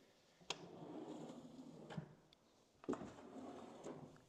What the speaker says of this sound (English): Now let's go ahead and open up some of these drawers for you. All of them are soft close